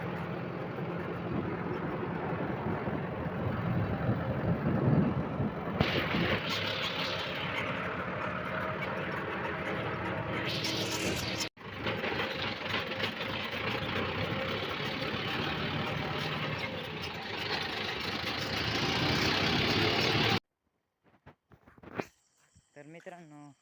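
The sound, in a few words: tractor engine idling as it is taken out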